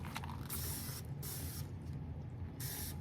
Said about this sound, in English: Probably spray them real quick.